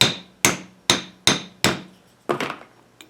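A hammer taps a press-fit steering pump part on an Exmark/Toro mower, giving five sharp, evenly spaced metallic strikes, then a pair of quicker hits and a faint final tap, close and clear.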